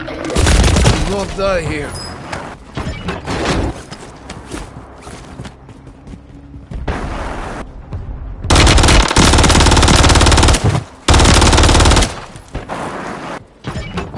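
Rapid bursts of automatic gunfire and shots in a military shooter game, loud and close, with long sustained volleys and dense clusters of fire alongside game voice callouts.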